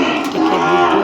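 A cow moos loudly and close by at a village cowshed, one sustained low call filling the whole second with no talk over it.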